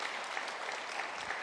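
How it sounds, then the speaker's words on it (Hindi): Congregation applauding during a Sunday sermon on the four cups of the Passover Seder, a fairly faint but continuous patter of many hands clapping throughout, with no speech over it. "जोरदार ताली उसकी हजूरी के लिए बजाइए।"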